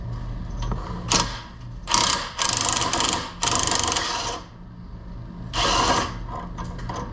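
A ratcheting wrench turns a bolt on a sway bar end link during a Teraflex suspension lift. It makes close bursts of rapid clicking, several in a row, with short pauses and faint handling noise between them.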